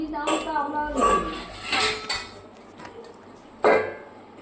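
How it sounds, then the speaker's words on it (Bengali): A lid is set on a cooking pot while fish curry is cooking, with several metallic clinks and clanks of pots and utensils mixed in among spoken remarks. "তো আমি এভাবে মিশিয়ে একটা ঢাকা দিয়ে দেবো"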